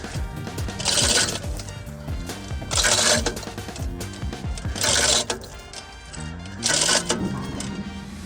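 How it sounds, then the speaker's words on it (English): A dented steel car panel being pulled back creaks and pops in four broad noisy bursts at regular intervals, with lower mechanical rumbling and clicks running between them. "There's that satisfying noise that the steel is getting back to its original position."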